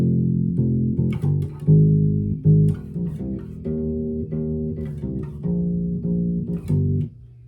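Bass guitar plays a riff, a looping run of round, low plucked notes with a steady groove, close and dry, with no voices over it.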